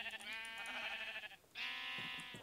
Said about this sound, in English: Spawn a sheep.